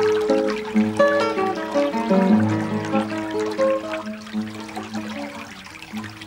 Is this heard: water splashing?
yes